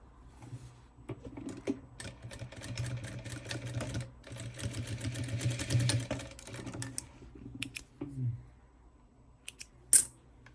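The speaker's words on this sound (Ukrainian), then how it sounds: "і даю строчку по своїй лінії" A sewing machine runs short stitching bursts along a seam line while a sleeved blanket is sewn, with quiet pauses, clicks and a final snip near the end.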